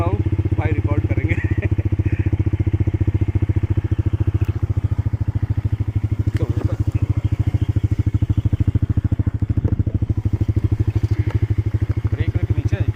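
A motorcycle carries two riders along a road near Tiger Point waterfall in Mainpat, Chhattisgarh, its engine a close, steady rapid thrum throughout, with occasional faint rattles and speech blending in.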